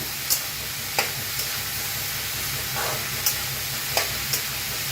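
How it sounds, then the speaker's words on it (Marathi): Washed cabbage stirred through hot oil in a pan for cabbage sabzi, giving a steady soft sizzle with a few sharp clicks of a spoon against the pan, close and alone without talk. "आता त्याच्यात टाकूया कोबी छान असा धुवून घेतलेला कोबीज आता मिक्स करून एक मिनिटभर भाजूया"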